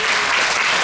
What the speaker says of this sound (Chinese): 再次给自己掌声，好吧？